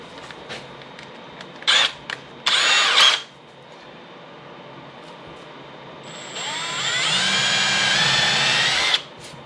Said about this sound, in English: I'm going to start off with a small Forstner bit, and then we're going to enlarge that